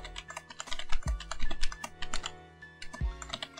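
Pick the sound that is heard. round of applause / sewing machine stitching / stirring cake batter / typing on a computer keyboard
typing on a computer keyboard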